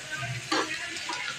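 Shallots and garlic sauté in oil, giving a soft, steady sizzle with a brief louder burst partway through, close and without talk.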